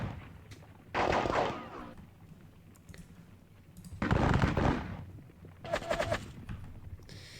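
Musket volleys crack out in John Tiller's Seven Years War game as infantry fires on charging cavalry: three separate loud bursts of rattling gunfire, each about half a second to a second long, spaced a few seconds apart over quiet background.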